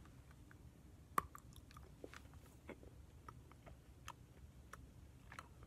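Small bites and chewing of a chocolate penguin shaped like a little milk chocolate figure, with one sharp snap followed by soft, irregular crunchy chewing clicks close to the mic and no talking.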